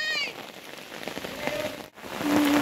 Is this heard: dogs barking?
no